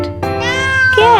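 A cat gives a single clear, close meow that rises and falls in pitch, loud and prominent within a children's alphabet song.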